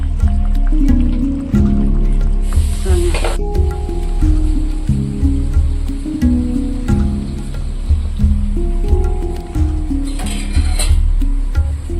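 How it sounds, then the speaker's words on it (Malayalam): Fish curry in a clay pot keeps bubbling after being taken off the stove, giving a continuous close-up wet simmering with soft pops and gurgles and a few brief louder splashes. "ചട്ടീന്ന് വെളി മാറ്റി വെച്ചിട്ടും സ്റ്റൗവേന്ന് വാങ്ങി വെച്ചിട്ടും തിളയ്ക്കുന്നുണ്ട്"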